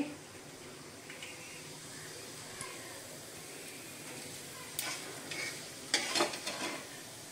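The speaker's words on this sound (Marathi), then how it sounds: "त्याच्यामध्ये आपण टाकूया मोहरी, थोडेसे जिरे," Mustard seeds and cumin sizzle in a small amount of oil over low gas, a soft steady hiss with a few light pops and utensil clinks toward the end.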